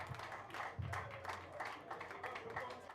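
An audience claps for an award winner at a ceremony, the scattered clapping faint and distant, mixed with room noise and murmuring voices over three seconds.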